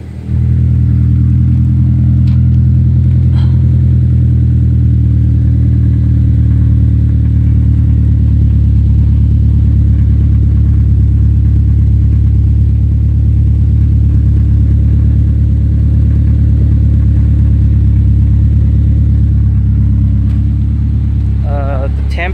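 A Honda S2000 fitted with an Invidia N1 exhaust idles with a deep, steady rumble, then revs, the engine note rising and holding loud and close for a sustained stretch with no talk over it.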